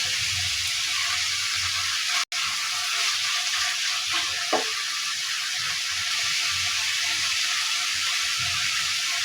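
Carrots, onion and small pieces of chopped chicken fry together in a pan with a continuous, fairly loud hiss, broken by one sharp click early on and a brief stir midway.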